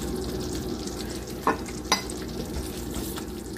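Butter melting and sizzling in a pan while making biko, a steady frying hiss with two brief clinks of a utensil partway through.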